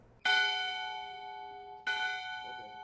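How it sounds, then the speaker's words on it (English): A large bell tolls twice in protest of the death penalty, each loud ring followed by a long shimmering decay, the second toll coming after a pause of about a second and a half. "This bell rings in protest of the death penalty"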